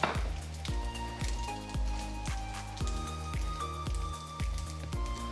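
Pasta alla gricia is tossed in a saucepan with its juices, giving a repeated rhythmic series of wet slaps and squelches, about a dozen flips in quick succession, close and fairly quiet.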